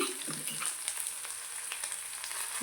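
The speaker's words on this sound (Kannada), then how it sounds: "ಉಳ್ಳಾಗಡ್ಡಿನ ಹಾಕ್ತೀನಿ ಸ್ವಲ್ಪ ಫ್ರೈ ಮಾಡ್ಕೊರಿ" Chopped onion frying in a pan for a North Karnataka dill-leaf curry makes a soft, continuous sizzle with faint crackles throughout, fairly quiet and heard alone.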